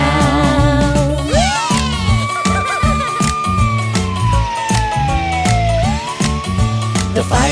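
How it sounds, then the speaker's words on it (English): A rising and falling wailing fire truck siren glides up and down over loud upbeat nursery rhyme music, one long sweep after another, close and prominent. "The fire truck siren goes wee-o, wee-o, wee-o"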